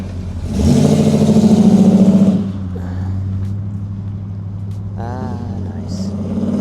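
A 1976 Pontiac Trans Am pulls away, its V8 rising into a loud, rough revving roar for about two seconds, then settling into a lower steady drone as it moves off, with faint voices near the end.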